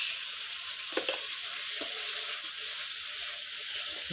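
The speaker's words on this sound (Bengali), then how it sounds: "তিন চার মিনিট মশলাটা কষানোর পর" Spice paste for a country chicken curry fries gently in a pan, giving a soft, even sizzle with a few light scrapes of the spoon early on.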